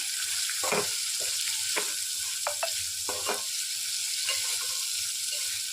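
Onions sautéing in oil in a pan for upma, with a steady close sizzle broken by several scraping stirs of a spoon against the pan, and no talking.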